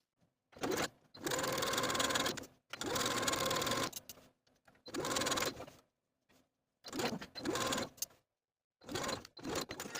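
A sewing machine stitches bias binding onto a sleeveless top in short, whirring bursts separated by pauses, running close and steady with each stretch of stitching lasting a second or two.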